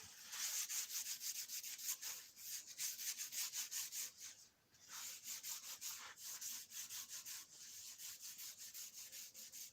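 Kitchen roll wiping a surface with WD-40 in a workshop, a fast steady series of close scrubbing rubs that pause briefly midway, with no talk.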